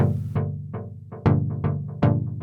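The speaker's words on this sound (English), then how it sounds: "So the first one will be a delay, a tape delay emulation, and it sounds like this." Sequential Rev 2 synth chords for dub techno through a tape delay emulation, short plucked chord stabs in an uneven rhythm, each trailing off in quickly fading repeats, moderately quiet and alone.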